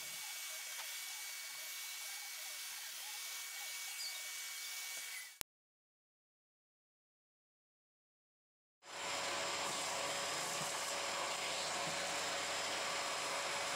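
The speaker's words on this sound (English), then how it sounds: "The brush bar and incredible suction make it a great animal vacuum." Dyson DC28 Airmuscle animal vacuum cleaner running with a steady broadband whooshing roar, cut off by a few seconds of silence and then starting again, moderately close, with no talk.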